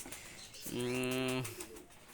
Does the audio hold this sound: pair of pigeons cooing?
yes